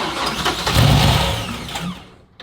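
A Nissan 240SX with a brand new engine revs up close and loud, the roar building to a peak around the middle before easing back down over a couple of seconds.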